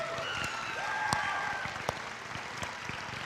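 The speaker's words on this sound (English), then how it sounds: "We have a big, warm applause for the beautiful vampire contestants and their talent this evening." An audience at a vampire-themed beauty pageant applauds the contestants, with moderate clapping and a few sharp louder claps standing out, plus faint tonal sounds in the background.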